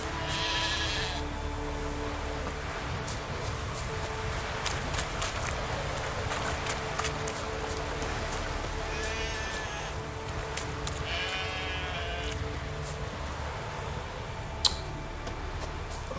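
A goat bleats in The Witcher 3, with a drawn-out bleat at the start and two more near the end over a steady ambient hum and light ticking.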